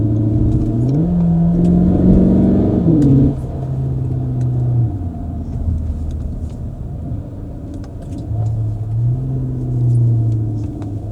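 Cupra Terramar plug-in e-hybrid with DSG gearbox revving loudly up and down, a rising and falling engine note held close with no talk over it.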